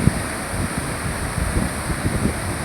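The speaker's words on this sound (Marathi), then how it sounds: "धो धो धो धो पाणी वाहत आहे पाहू शकता. तुम्हाला आवाज येत असेल पाण्याचा" Floodwater rushes through a swollen river in Maharashtra during heavy monsoon rain. It makes a steady, continuous roar with a low rumbling churn and no pauses, heard alone and close by.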